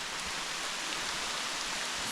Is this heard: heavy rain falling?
yes